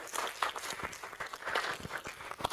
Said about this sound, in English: Let's a round of applause as he comes